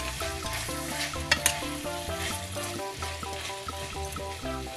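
Bitter melon stir-fries in a pan, a constant close sizzle with a couple of sharp clatters near the start, running under a steady bed of background music.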